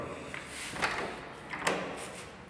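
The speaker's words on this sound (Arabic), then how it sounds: "حنا حلينا الباب خارجين بحالاتنا" A door is opened in a stairwell, giving a couple of soft thuds and scraping latch clicks over a steady background rush, fairly faint and not close.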